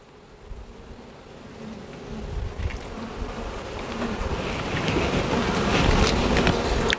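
A dense swarm of honey bees hums close by at an open hive, the buzzing thickening and growing louder throughout, with occasional soft knocks and rustles.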